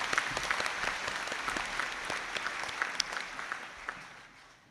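Steady applause from a large audience at a university conferring ceremony, dense overlapping claps sustained throughout and tapering slightly at the end, with no voices standing out.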